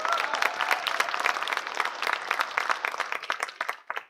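Audience applause at a school arts festival's final performance, a dense steady patter of many hands clapping together, fairly loud and sustained, tapering off near the end.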